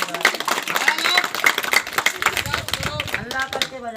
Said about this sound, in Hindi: सब बच्चे ताली बजा दो,